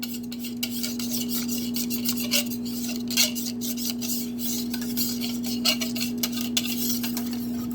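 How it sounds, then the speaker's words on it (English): A whisk scrapes and clatters rapidly against a bowl of homemade chocolate pudding in a quick, steady rhythm, over a constant low electrical hum. "giving it a good whisk before putting it in the microwave and in between"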